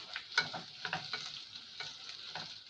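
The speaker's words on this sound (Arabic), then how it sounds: "هنا بقى زودت بصلاية صغيرة كمان لان حسيت البصلة اللي عندي قليلة" Onion sautéing and being stirred in a pan for lentil soup, a soft steady sizzle with scattered scraping stir strokes, fairly quiet and close, no voices.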